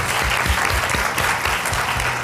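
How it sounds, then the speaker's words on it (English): Audience applause at a panel event on Black women in politics, a steady roar of clapping from a full room lasting the whole short stretch with no talk over it. "Please give a round of applause to Ms. Tamika Hart."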